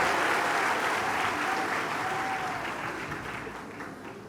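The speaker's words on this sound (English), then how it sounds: "Can we clap those hands for our DUT Mass Choir?" An audience claps for the DUT Mass Choir at a university welcome address, a full, dense burst of applause that slowly fades over a few seconds.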